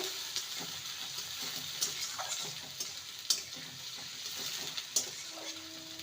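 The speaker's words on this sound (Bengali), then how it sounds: "পেঁয়াজটাকে দু মিনিট ভেজে নেব" Chopped medium-sized onion fries in a pan with spices for a methi potato dish, making a soft, faint sizzle broken by light clicks and taps of stirring, without any talking.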